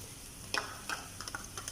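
Chicken tikka and onion fry in a pan while being stirred, giving a faint sizzle with a few soft scraping clicks of the utensil spaced across the moment.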